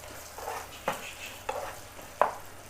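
A jackfruit, jaggery and coconut mixture is stirred in a pan with a few soft, evenly spaced scraping strokes over a faint low sizzle.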